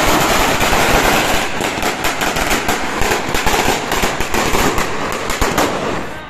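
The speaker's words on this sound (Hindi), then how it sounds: "ये लगा दी 1000 बम की लड़ी, 1000 की है ना शिवा भाई?" A long string of about a thousand firecrackers bursts in a dense, continuous crackle of rapid pops, loud and close, with no talking.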